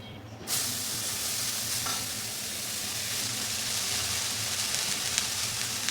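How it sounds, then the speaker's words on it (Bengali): Leafy greens frying in a pan with no oil or turmeric, a steady, dense sizzle that starts abruptly and holds evenly at close range, with no voices. "এই যে শাকগুলো ভেজে নেব"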